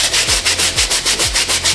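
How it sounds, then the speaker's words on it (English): Brush scrubbing muddy Louis Vuitton trainers, quick rhythmic back-and-forth strokes repeating about every quarter second, loud and close with bristly hiss on each pass, no talking. "All right, we're giving that a good scrub."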